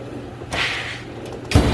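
A hammer strikes a part in the engine compartment of a Coronet with a 440 Mopar engine, two sharp impacts, a lighter knock near the middle and a heavier close thud at the end, over quiet workshop background.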